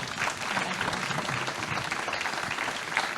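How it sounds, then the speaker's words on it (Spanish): Sustained applause from an audience, dense clapping that stays even and fairly loud throughout. "darles un aplauso a los tres"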